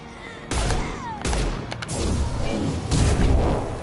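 In Mass Effect Legendary Edition, a rifle fires several loud, sharp bursts in quick succession with booming low-end impacts. Faint game sounds fill the gaps between shots.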